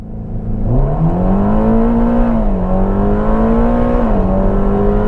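A Ferrari Roma Spider convertible pulls away hard, its engine note climbing steadily through the revs with a brief dip at a gear change, loud and close throughout with no talking over it.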